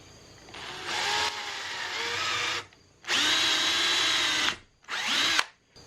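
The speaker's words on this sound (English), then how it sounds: "a 5/16 inch hole in the side of this triangle piece" A power drill bores a 5/16 inch hole into the side of a triangular wood piece, whirring loudly in three bursts separated by short pauses, each run strained under load.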